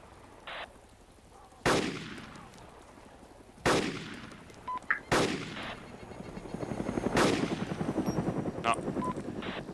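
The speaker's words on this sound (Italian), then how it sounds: "L'elicottero ce l'ha con noi, eh." Heavy bursts of gunfire and explosive blasts in a war video game battle, with a helicopter's continuous rotor drone rising beneath the shots; several loud, sharp reports ring out over a steady mechanical rumble.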